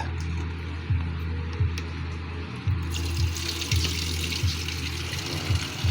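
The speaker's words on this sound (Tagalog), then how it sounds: "Tapos lalagyan na natin ng tubig." Tap water pours into a pot in a home kitchen, a steady rushing stream with regular low thumps beneath it, and the splash grows brighter and fuller partway through.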